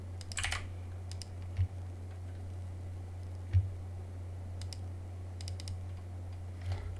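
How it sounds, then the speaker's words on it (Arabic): Soft clicking of keys on a computer keyboard as a password is typed, a few quick bursts of taps and single clicks spaced out over a steady low hum, close and quiet. "نكتب الباسورد"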